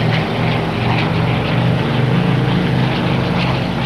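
A Spitfire Mk I engine in a flight simulator roars steadily at high power, a loud, close, continuous propeller drone with a rough, throbbing low rumble and no talking.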